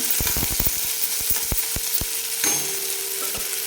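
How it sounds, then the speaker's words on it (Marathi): Chopped onion sautés in a pan for tomato chutney, giving a steady close sizzle broken by a quick series of sharp taps from the spoon as it is stirred. "आणि छान दोन मिनिट आपण याला परतून घ्यायचं आहे नरम करायचं आहे आपल्याला कांदा लालसर करायचा नाही"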